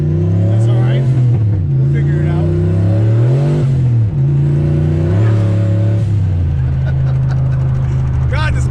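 A 1988 Ford Mustang with a turbocharged 302 V8 drives and accelerates on the street, its engine note rising and falling in strong, steady pulls close by, with people talking over it.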